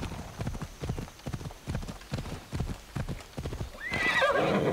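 Horse in the Assassin's Creed Odyssey video game, with rhythmic galloping hoofbeats close up followed by a loud, rising neigh at the end.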